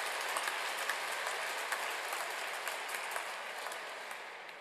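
Sustained applause from a seated audience at a graduation ceremony for Rotary host counselors, a steady even wash of many hands clapping at moderate distance that tapers slightly toward the end.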